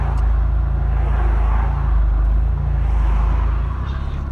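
A 1984 Vauxhall Cavalier mk2 idles while stuck in roadworks traffic, its steady low engine rumble and hum continuing throughout from inside the car, with no talking.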